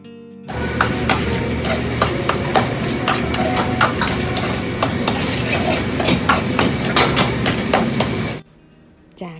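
Rapid knife chopping of chicken for Thai larb in a busy restaurant kitchen, steady sharp knocks on a board for about eight seconds over loud cooking hiss and sizzle, then stopping.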